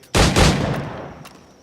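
Gunfire at targets in Assassin's Creed Black Flag: two loud, close shots in quick succession, followed by a fading rumble and a faint click.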